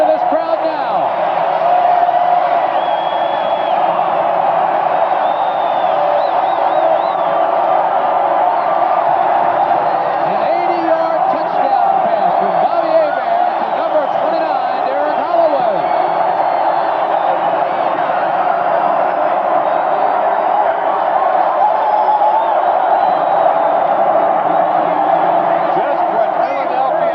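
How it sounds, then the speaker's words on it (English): Football stadium crowd roaring and cheering after a touchdown, a dense continuous wash of voices and whoops under steady commentary talk. "And listen to this crowd now."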